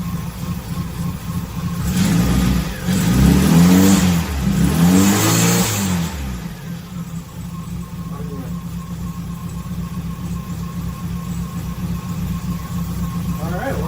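A car engine fitted with a Weber carburetor revs up hard for a few seconds, its pitch rising and falling in loud surges, then drops back to a steady, rough idle close by.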